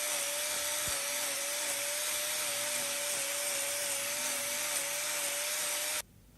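A power tool trimming the hoof claw of a cow with laminitis, its high steady whine running continuously and fairly loud before cutting off abruptly near the end.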